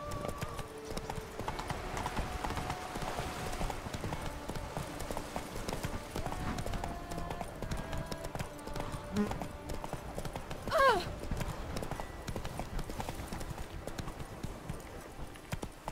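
Roach, the horse in The Witcher 3, gallops with steady, close clip-clop hoofbeats throughout, over a continuous game soundscape with faint background music and a brief rising whinny-like tone near the end.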